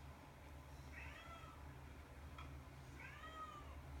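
Two soft cat meows, a second apart, sound faintly over a low steady hum with no talking.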